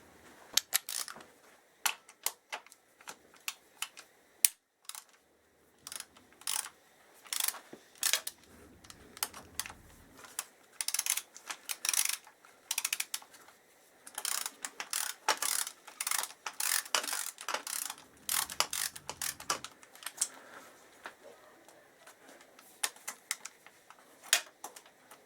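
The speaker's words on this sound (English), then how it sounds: "what I need to do now is undo this nut here and the same on the other side" A ratchet undoes a nut on a Suzuki GSX1300R Hayabusa radiator, making rapid close clicking pawl bursts in repeated runs with short pauses between strokes.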